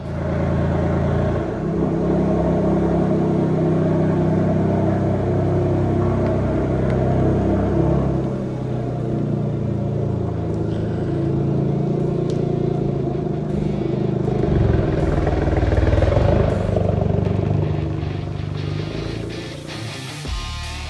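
A Toyota GR Yaris with an upgraded intake drives along, its engine a steady loud rumble with whooshing induction noise, rising and easing with revs throughout, no talk over it.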